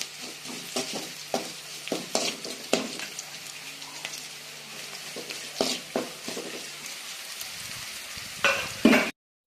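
Onion, ginger and garlic fry in a pan with a bright sizzle, broken by repeated scraping strokes of stirring, close and fairly loud, and the sound stops abruptly at the end.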